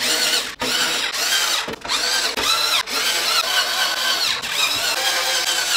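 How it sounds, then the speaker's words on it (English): A power driver spins screws into a motherboard inside a PC case, several bursts of high-pitched whirring broken by brief clicking pauses as each screw seats. "Install all 9 motherboard screws."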